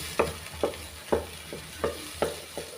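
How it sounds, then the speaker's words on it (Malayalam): A spoon stirs a thick jackfruit mixture in a frying pan, six evenly spaced scraping strokes about half a second apart over a faint sizzle, close and clear with no talking. "ഞാൻ ഇളക്കിക്കൊണ്ട് നിൽക്കണം കുറച്ച് നേരം"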